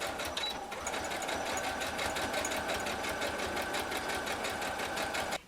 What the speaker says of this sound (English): So I'm getting ready to stitch all of this in place